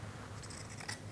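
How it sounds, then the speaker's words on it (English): Scissors snipping along a fabric seam on a self-drafted fitted tube top, a few crisp close cuts over a steady low background hum. "where I just cut along that seam area"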